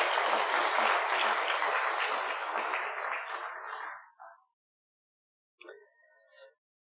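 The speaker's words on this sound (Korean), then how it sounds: "우리 환영의 박수" A church congregation gives welcoming applause, a full, loud wash of many hands clapping that fades out after about four seconds, followed by silence and a brief faint bit of talk.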